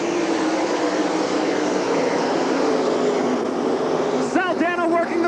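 Sprint cars roar around Eldora Speedway's dirt oval at a 1997 All Star Circuit of Champions race: a dense, steady engine drone fills the track, and near the end a nearby car's pitch swoops in rising and falling passes while a commentator talks.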